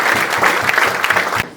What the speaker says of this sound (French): On peut applaudir l'ensemble des bénévoles du club.